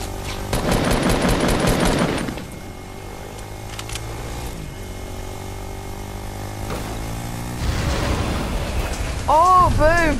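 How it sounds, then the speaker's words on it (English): Rapid bursts of gunfire from the Fortnite video game come in a dense rattle early on, then thin out and return with louder shots near the end, mixed with game effects and occasional talk. "Oh, we're being shot at."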